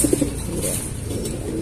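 Racing pigeons kept by a fancier coo softly at close range, a few low throaty notes at the start, followed by a steady murmur of background noise.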